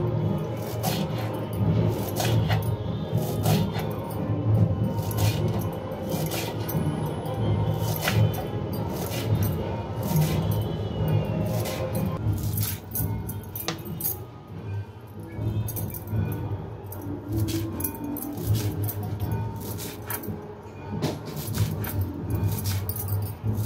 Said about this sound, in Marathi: तर मी आता बारीक कापून घेते।